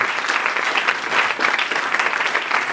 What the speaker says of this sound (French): Acclamons la gloire d'éternel notre Dieu